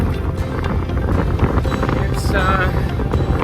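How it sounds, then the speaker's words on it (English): Wind buffeting a microphone while cycling a long-distance bike route, a steady loud rushing roar throughout with a brief spoken word. "I think you could hear the wind."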